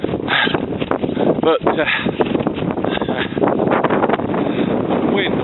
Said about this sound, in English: wind up here is just ripping right through, but worth it.